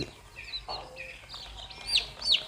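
Day-old white-feathered fighting-cock chicks in a nursery brooder give a few high, thin cheeps, with a louder pair near the end over soft background noise.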